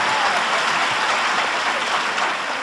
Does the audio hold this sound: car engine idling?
no